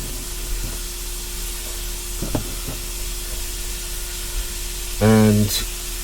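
Breakfast sizzles in a frying pan with a soft steady hiss, broken by a few clatters and a louder burst near the end.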